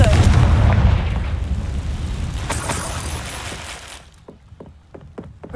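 A fire-blasting spell explodes in a Harry Potter video game, a loud booming burst that rumbles and fades over a few seconds, then trails into scattered sharp pops and crackles.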